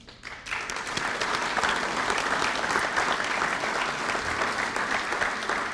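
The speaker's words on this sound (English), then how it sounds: "please, ladies and gentlemen, to give a big round of applause" A crowd applauds Korean War veterans at a 64th anniversary ceremony, sustained dense clapping that rises quickly at the start and holds steady throughout.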